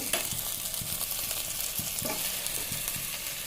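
Onion, green chili and curry leaves frying in a pan, a continuous close sizzle with scattered stirring clicks and pops, no voices.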